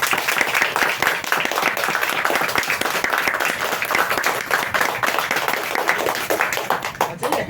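A hall full of listeners applauds a presenter, many hands clapping in a dense, continuous roar that holds steady and loud for several seconds.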